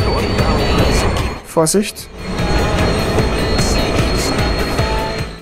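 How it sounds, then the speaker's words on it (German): Train rolling across a bridge in the video game Watch Dogs, a continuous rumbling clatter of wheels on track with a short squeal midway, while someone speaks briefly over it. "das ist wieder die Brücke, das ist der Zug"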